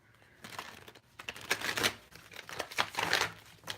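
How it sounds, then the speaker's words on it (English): A large tarot deck being shuffled by hand, soft papery riffling and slapping in several uneven bursts, close and fairly quiet, with no voice. "That shuffle didn't want to come together."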